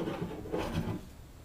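Hand plane drawn across glued-up wooden workbench boards, a short rasping scrape that swells and fades, close and fairly quiet, with no one talking.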